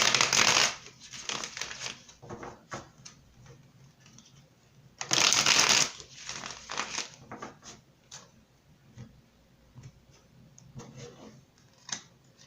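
Tarot cards are shuffled close by, with two loud riffling bursts and softer card taps and rustles in between.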